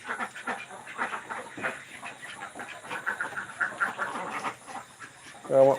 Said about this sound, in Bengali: আমার এই হাঁসগুলো কিন্তু অনেকগুলি আছে এখানে